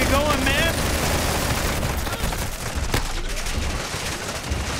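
Sustained gunfire in Call of Duty Modern Warfare II beta multiplayer, a dense, loud, continuous wash of shots and explosions with little break throughout.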